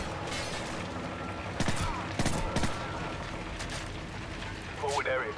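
Suppressed gunfire from a rifle in Call of Duty 4: Modern Warfare comes in a few short bursts of muffled shots amid game ambience, with a voice talking over it.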